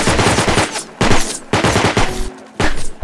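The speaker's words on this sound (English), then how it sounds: "I got shot on the way there." Gunfire in the survival video game Rust comes as loud, dense bursts of rapid shots. The bursts are separated by brief gaps and repeat four or five times in quick succession.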